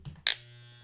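A corded electric hair trimmer switches on with a brief loud burst, then settles into a steady, close buzzing hum that holds alone to the end.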